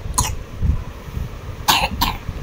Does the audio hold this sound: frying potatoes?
no